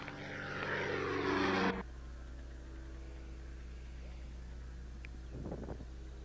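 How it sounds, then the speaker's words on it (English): A propeller jump plane carrying skydivers roars loudly with a rising drone that cuts off abruptly, leaving a steady low engine hum in the background. "And here goes the jump plane carrying the skydivers."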